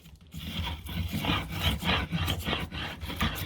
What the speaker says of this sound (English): either using this spoke shave, doing this kind of thing,